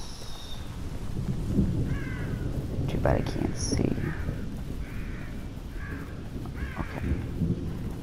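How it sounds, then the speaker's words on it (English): Crows cawing in the horror video game The Evil Within, a few harsh calls scattered through the stretch over a bed of rain and low rumble, with someone talking throughout. "I hear birds, that's good."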